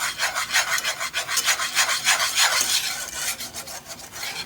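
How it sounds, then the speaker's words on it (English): Rapid rhythmic scraping of a whisk working flour into a slurry in a pan, steady back-and-forth strokes close up with no talking. "our goal right now guys is to get in there and whisk"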